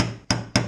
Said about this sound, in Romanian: Cum vedeți, nu folosesc o forță foarte mare la bătaia ciocanului.